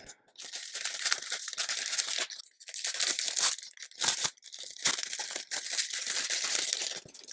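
Packaging being torn open and crinkled while beads are unpacked, a series of close, bursting rips and crumpling rustles with short pauses between them, no talk.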